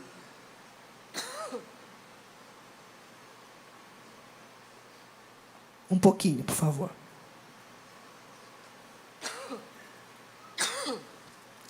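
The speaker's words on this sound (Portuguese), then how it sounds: "Deixa eu tossir aqui." Several throat-clearing coughs, a couple of short ones spaced apart and a louder burst in the middle, with a brief spoken phrase amid faint background hiss.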